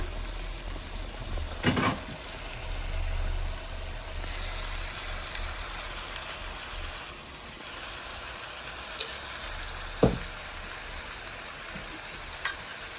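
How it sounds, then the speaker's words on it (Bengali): Chicken pieces sizzling and frying on top of spices in a pan, a steady close crackle with a few clinks and stirring knocks, no talking. "মুরগির মাংসটা দিয়ে দিচ্ছি এই সম্পূর্ণ মশলার উপরে"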